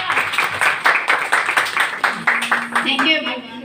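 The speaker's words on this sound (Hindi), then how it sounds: "तालियां बजाइए जोरदार।" Loud, rhythmic clapping from a crowd at a women's day celebration welcoming a guest, with distinct synchronized beats and a voice starting to speak over the tail end.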